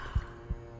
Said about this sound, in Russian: Я слышу сердцебиение где-то.